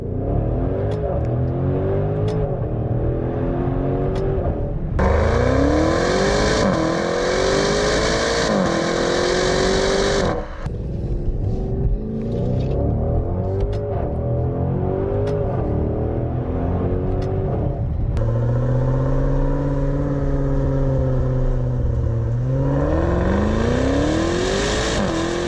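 A 2019 Maserati Levante GTS engine and exhaust on a drive, revving up and down through repeated gear changes with a loud, throaty, continuous roar heard from inside the car.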